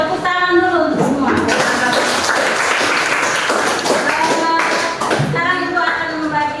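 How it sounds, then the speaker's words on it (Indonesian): A classroom of students claps together at a teacher's prompt, a burst of hand claps that swells in the middle and fades, with the teacher's voice heard before and after. "tepuk tangan dulu untuk semua"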